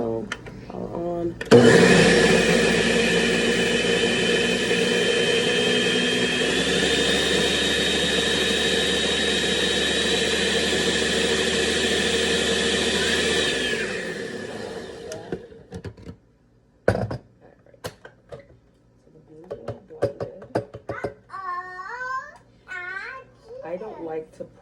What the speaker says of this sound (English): Just slot the blender.